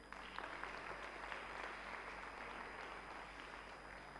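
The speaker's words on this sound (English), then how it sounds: "can we give a round of applause to Dr. Abel?" An audience breaks into sustained applause, a steady wash of many hands clapping, fairly distant and faint against background room noise.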